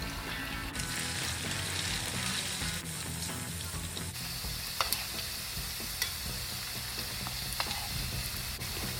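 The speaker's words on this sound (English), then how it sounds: "After an hour, you have to deep fry the fish." Fish deep frying in oil sizzles and crackles continuously, with occasional sharp pops and clinks over the steady frying hiss, close by.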